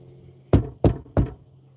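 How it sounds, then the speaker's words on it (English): Three firm knocks on Rubbermaid plastic, evenly spaced and close, each a short hollow thunk over a quiet background with no speech. "Knock on Rubbermaid plastic."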